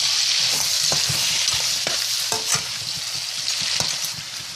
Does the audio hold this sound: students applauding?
no